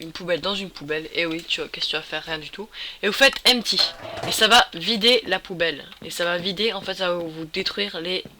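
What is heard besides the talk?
No everyday noises stand out.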